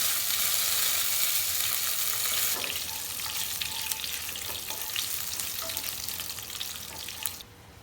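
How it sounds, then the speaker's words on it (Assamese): A spoonful of ghee with cumin seeds and three green chillies frying in a pan, a loud, dense crackling sizzle heard up close that eases slightly partway through, then drops off near the end, with no talking. "এচামুচ ঘি দি দিছোঁ। জিৰা কেইটামান, পান জলকীয়া 3টা দি দিছোঁ।"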